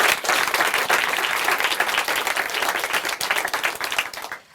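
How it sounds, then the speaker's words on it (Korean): An audience at a Christian testimony program breaks into loud, dense applause, a continuous wash of clapping that holds steady for several seconds. "박수로 함께 축복해드릴게요."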